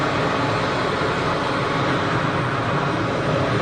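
An easyJet airliner at Geneva Airport makes a continuous, loud, broadband engine roar on its takeoff roll, steady and unbroken throughout.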